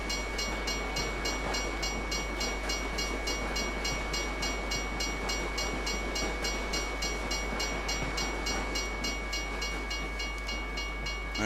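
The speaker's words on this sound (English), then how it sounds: "this is one heck of a bloody freight train." A long freight train rolls past a level crossing in Euro Truck Simulator 2, a continuous rumble with regular clicking wheel beats over the rails and a steady low hum, sustained throughout.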